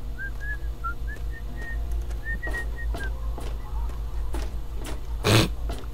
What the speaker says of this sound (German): die können aber gut pfeifen.